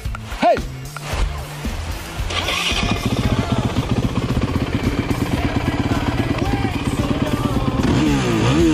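A 150 Honda motorcycle rides past with a quick engine start and then a steady rapid putter that builds into revving, loud and close, with brief voices early on.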